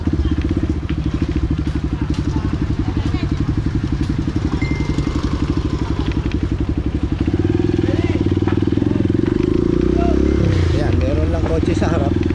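An enduro motorcycle rides a potholed, bumpy road with humps on a shortcut toward Carmona. The engine drones loud and steady, with rattles and clatter, and it revs up slightly toward the end.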